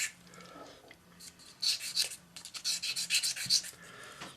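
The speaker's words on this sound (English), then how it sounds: "take your sanding stick, magic sanding stick, and just tidy up the ends of the prongs" Close, quick rasping strokes of a sanding stick filing metal prongs of a claw setting come in bursts, faint at first and then a run of rhythmic scrapes.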